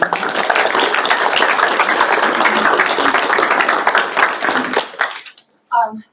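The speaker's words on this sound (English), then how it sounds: "Give them another round of applause." Loud, full applause from the audience at a board meeting, many hands clapping steadily and close by before fading out abruptly, with a brief voice heard after it stops.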